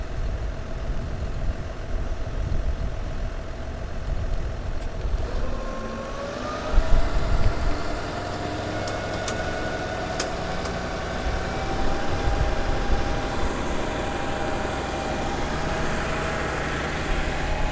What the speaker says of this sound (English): That's her pumping up to the applicator.